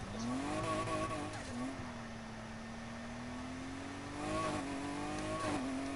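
A Ferrari sports car's engine revs faintly in the distance, with a steady drone that swells into short blips around the start and again near the end.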